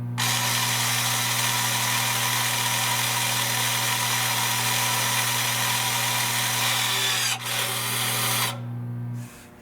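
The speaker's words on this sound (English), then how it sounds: "now you'll hear the noise again. The motor will go into its proper position." The electric parking brake motor on a 2024–2026 Lexus GX550 or Toyota Land Cruiser whirs steadily as it repositions, a close constant mechanical drone that drops briefly, resumes and then cuts off near the end.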